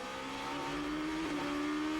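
Onboard a GP2 race car driven by Pizzonia at Bahrain, the engine screams steadily at high revs, loud and close, with a brief pitch shift midway as the car shifts or changes speed.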